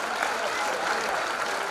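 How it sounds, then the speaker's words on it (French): Audience at the Equiblues 2017 festival applauds musicians during an intermission, a dense, steady wash of clapping from a crowd that holds at an even level throughout, with a voice faintly over it. "On les applaudit très fort"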